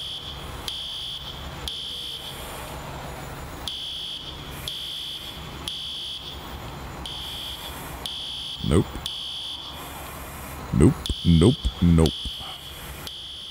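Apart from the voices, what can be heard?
alarm sounding in EmergeNYC video game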